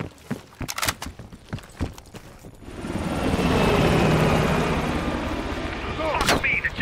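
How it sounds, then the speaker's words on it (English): A helicopter in the Call of Duty Cold War video game roars up with a broad, heavy rotor rush that swells and holds loud, following a burst of sharp gunfire cracks, with faint game voices mixed in. "The chopper got away!"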